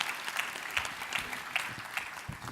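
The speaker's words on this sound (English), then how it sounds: "please give them a round of applause" Audience applause at an industry forum panel, a steady wash of clapping from a crowd filling the whole short stretch.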